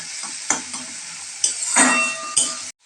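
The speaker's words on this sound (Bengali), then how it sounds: "পেঁয়াজটা একটু নেড়ে চেড়ে নিতে হবে।" Onions frying in a pan with a steady bright sizzle, broken by several scraping strokes of a stirring spatula, ending abruptly.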